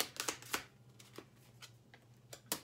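Tarot cards being shuffled close up, a series of quick papery riffles and flicks in short bursts, quiet between, ending with a sharper snap of cards, with no talking.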